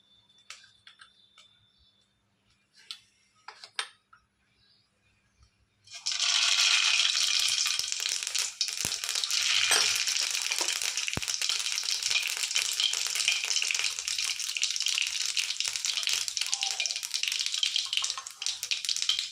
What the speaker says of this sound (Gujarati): આપણે તેલ ગરમ થઈ ગયું છે તો આપણે એમાં રાઈ જીરું નાખી દઈશું